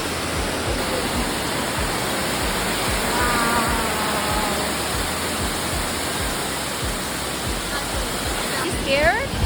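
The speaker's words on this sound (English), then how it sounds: "We're standing over a waterfall, Logan." A waterfall on a hiking trail rushes directly beneath where people stand, a loud, steady broadband roar that continues without a break, with a voice briefly audible near the end.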